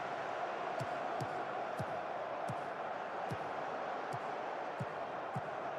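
Loud, regular ball kicks thump about every half second to second over a steady, dense stadium crowd roar in the Football Manager 26 football video game, the kicks standing out above the crowd.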